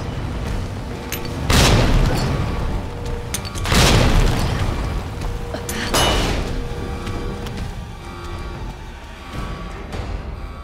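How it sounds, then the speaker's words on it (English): Flashbang and hand grenade blasts in Resident Evil 2, three heavy booms spaced roughly two seconds apart over a continuous game soundscape, with a softer fourth burst trailing at the end. "you need to throw 1 flashbang, followed by 3 hand grenades, and then another flashbang"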